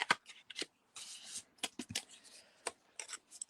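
Paper card stock being folded and creased by hand for handmade cards, heard as close, crisp rustling and sharp swishes in short bursts with brief pauses between.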